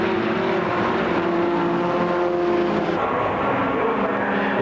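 Super VW Cup Beetle race cars lapping a track at a 1998 French championship round, loud sustained engine drone with shifting pitch as cars pass close by, no commentary audible.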